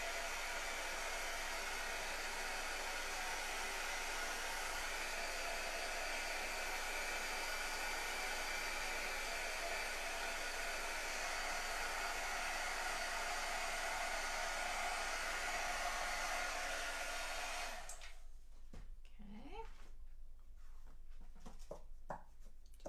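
A hair dryer blows loud and steady for about eighteen seconds while drying a papercraft kit project. It then cuts off, leaving faint handling noises on a desk.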